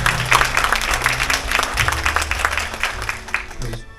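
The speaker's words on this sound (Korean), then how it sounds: "김양숙 동장님 박수 한번 보내주십시오." An audience at a citizens' carbon-neutrality forum in Suwon applauds loudly in a dense, sustained roll of clapping that stops abruptly near the end, with a voice faintly under it.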